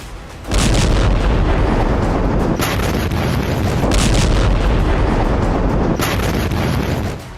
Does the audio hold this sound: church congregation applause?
no